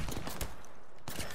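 Automatic weapon fire in the battle royale shooter Apex Legends, a quick burst of shots near the start and another just before the end, loud and close over continuous game noise.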